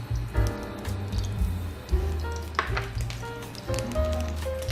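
Oil sizzles softly in a grill pot as shrimp pad thai cooking begins, with light crackles and drips over a steady low hum, fairly quiet and close.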